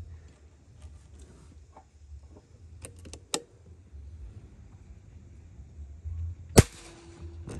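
A single sharp air rifle shot from a BL Slug M barrel cracks out loud and close, standing apart from quiet handling noises and soft background rustle.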